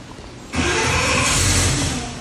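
Small-block engine for a Nova roaring under load on a dyno, starting after a brief quiet moment and holding a loud, steady, full-throated drone that swells slightly toward the end.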